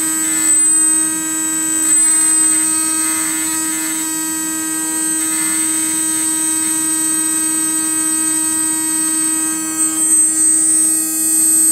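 A Pulse Motors MagSpinner 1.2 magnet motor spins at high speed near 19,400 RPM, giving a steady, loud, pure electric whine with a low hum beneath it. The tone holds throughout with only slight wavering.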